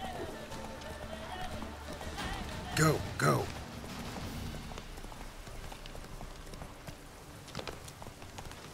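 Galloping horse hooves in The Witcher 3: Wild Hunt, a steady clip-clop rhythm running under a voice talking, with a brief louder burst of sound near the middle.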